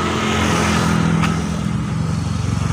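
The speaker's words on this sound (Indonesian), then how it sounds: "Oke, motor lewat." A motorcycle engine rumbles past on a city street in Kota Banjar, loud and close throughout, its low growl swelling slightly and fading with a brief whoosh of passing traffic.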